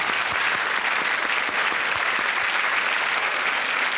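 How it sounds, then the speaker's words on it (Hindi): Loud, dense studio audience applause on a TV quiz show, a continuous roar of many hands clapping at a steady level, with sharp individual claps poking through. "तालियां बज जाएं इनके लिए।"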